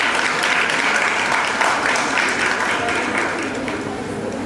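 An audience gives a professor a sustained round of applause at a World Hindi Day celebration, dense steady clapping that gradually eases toward the end.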